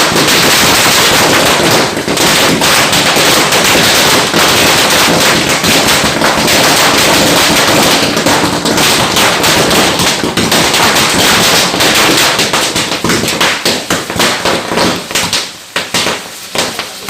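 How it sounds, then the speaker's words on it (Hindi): Dense, continuous crackling bursts of firecrackers and fireworks set off by traders in an Itarsi market during a Diwali-season business ritual, loud and rapid-fire, thinning out slightly near the end. "यहाँ सराफा बाजार और चावल लाइन में जो बड़े व्यापारी हैं इन्होंने घनघोर आतिशबाजी की"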